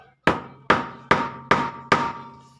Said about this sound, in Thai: แล้วก็ใช้ค้อนไม้เป็นตัวตอก